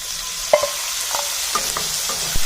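Citron pieces and green chilies frying in a pan for citron gojju, a steady close sizzle broken by a few light clicks and scrapes of a spoon stirring.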